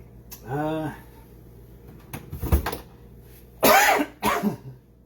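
A person coughs and splutters several times in bursts after tasting spicy sauce, close by, with short pauses and a throat-clearing sound between.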